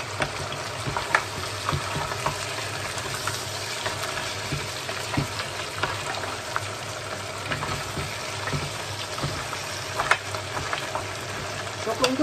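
Ingredients being sautéed in a pan for creamy coconut vegetables with crab, a steady sizzle broken by scattered scraping and stirring clatter, close and moderately loud, with faint talk now and then.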